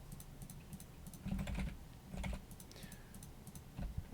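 Computer keyboard typing, quiet bursts of soft clicking keystrokes in small irregular clusters with short pauses between them, close and alone.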